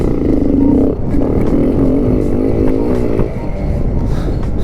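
An off-road motorcycle engine revs hard while pushing through mud, a loud close continuous roar with a wavering pitch that surges and eases slightly, with no break across the whole stretch.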